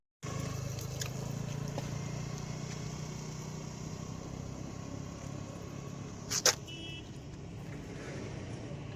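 Road vehicles pass by near a bridge, with a continuous engine rumble and a brief louder burst partway through.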